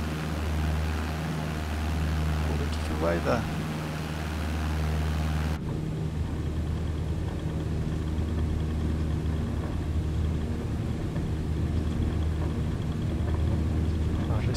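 Aircraft engine spooled to full throttle for a takeoff roll in Microsoft Flight Simulator 2020, a loud steady engine drone that shifts partway through, with someone speaking briefly over it.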